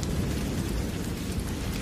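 Steady rain pours during a storm with a low rumbling undertone, likely distant thunder, constant and dense throughout with no voices.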